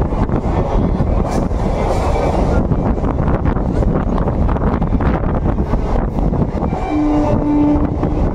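A train on the Bankura–Masagram railway line rumbles loudly past nearby with wind buffeting the microphone, and a brief horn note sounds near the end.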